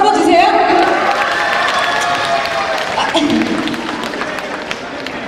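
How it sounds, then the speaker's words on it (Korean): Festival crowd at an outdoor rice and corn festival stage applauding, a dense steady wash of clapping and cheering that continues throughout, with a host's voice talking over it. "박수 한번 주세요."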